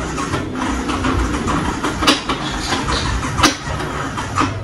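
A Yamaha R15 V3 motorcycle engine with lost compression and a failing starter cranks and labors to start, a dense, continuous mechanical rumble with occasional sharp knocks, loud and close.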